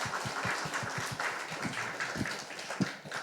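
A church congregation at a Korean thanksgiving service claps together in steady, fairly even rhythm, a roomful of hands applauding at moderate volume.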